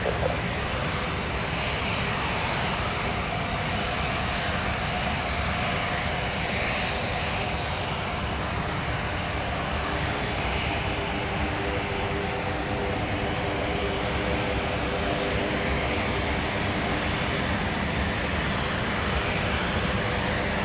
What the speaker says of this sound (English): Boy, this is a hot looking little jet.